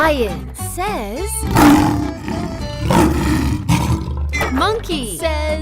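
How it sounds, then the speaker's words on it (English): A lion roars in a children's animal-sounds lesson, several deep, loud growling roars across the clip, framed by a cheerful voice announcing the animal and a short musical jingle. "Lion says."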